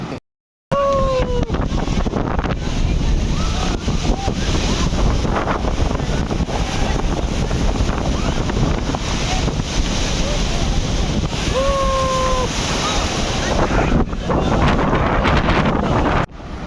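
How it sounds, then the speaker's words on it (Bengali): Strong wind roars across the microphone on Cox's Bazar beach with ocean surf washing continuously underneath, loud and steady for most of the stretch after a brief silent gap at the start. "এত পরিমাণে বাতাস দাঁড়ানোর সুযোগ নাই মনে হয় বাতাসে বাড়ি দিয়ে দেয় ফেলে"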